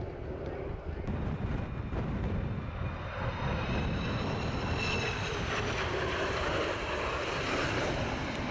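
A fixed-wing aircraft descends to 1,000 feet and turns left into the downwind circuit, its engine drone steady and fairly loud over constant wind buffeting throughout, with no break.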